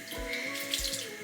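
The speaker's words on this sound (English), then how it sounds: "just getting the water nice and hot" Hot water runs steadily from a bathroom tap into a sink, a continuous close splashing stream with no talking.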